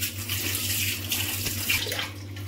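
Water runs and splashes steadily as coriander leaves are washed, a continuous close faucet-like wash with light bursts of splashing throughout.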